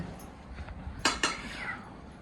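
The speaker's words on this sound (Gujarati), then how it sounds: "મમ્મી વાસણ કરે" Dishes being washed at home, with a couple of sharp metallic clinks of utensils against pots standing out over a quiet, faintly noisy room background.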